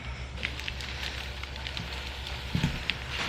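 Ground meat for chili sizzles in a pan, a dense crackling and popping spread evenly throughout at moderate volume, with a low background rumble and no talking.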